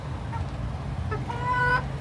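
Chickens and roosters in a backyard coop with dirt-scratched hollows give short clucks and a brief tonal call over a steady low background hum, fairly close and moderately loud.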